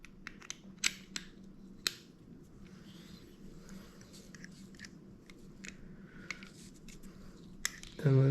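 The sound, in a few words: handle screwing onto a Daiwa Saltiga fishing reel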